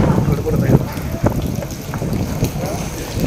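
Strong wind buffets the microphone near water where speed boats run, with continuous rumbling gusts, and brief thumps and rattles break through.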